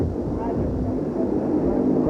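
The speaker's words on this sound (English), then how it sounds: "This could be the press plane." A propeller or jet airliner rumbles steadily at Love Field airport as it arrives, a broad continuous roar at moderate distance.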